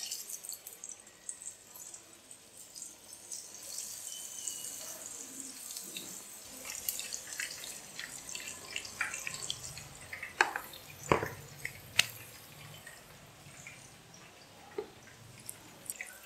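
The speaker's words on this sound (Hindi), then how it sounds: "अब इसमें पकौड़े डाल के इसे फ्राई करेंगे।" Pakoras fry in hot oil for kadhi pakora, a faint, steady sizzling hiss broken by scattered small pops and crackles.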